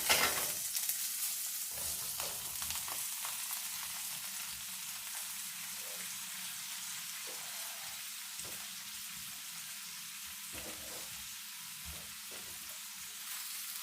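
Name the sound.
butter melting and sizzling in a pan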